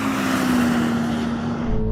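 A 3 litre Toyota Supra accelerating in a drag race, a loud sustained engine roar with steady tone throughout.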